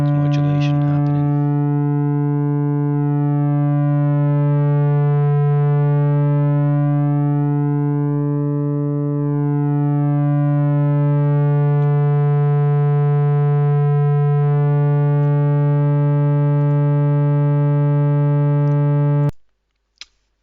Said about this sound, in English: You're starting off with a basic sine wave, and you're excuse me, you're distorting it in order to generate more harmonically